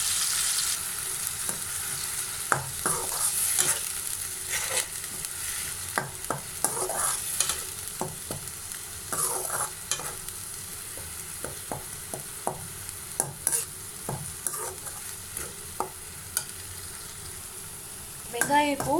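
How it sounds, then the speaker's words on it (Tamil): Onions and curry leaves sautéing in a pan for squid masala, a steady sizzle running throughout with frequent scraping stirs and clinks of the spoon, close and fairly loud, with no talking. "இது நல்ல பச்சை வாசனை போகிற வரைக்கும் நம்ம நல்லா வதக்கி விட்டுட்டே இருக்கணும்"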